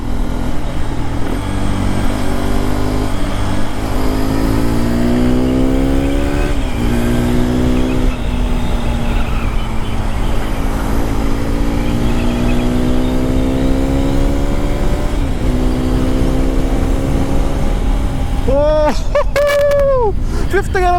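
A Hero Xpulse 210 motorcycle engine revs hard on a test ride, its loud, close drone climbing in pitch through each gear and dropping at every shift, over and over.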